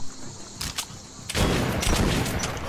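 Video game gunfire in Metro Last Light: a couple of quick sharp shots, then a loud sustained burst of blasts and rumble, close and harsh.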